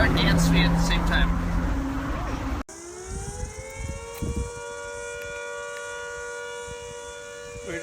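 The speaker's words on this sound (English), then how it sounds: "and then this crazy siren just went off" A civil defense siren sounds outdoors in New Zealand, cutting in abruptly after a few seconds of busy background sound and then holding a loud, steady, multi-toned wail to the end.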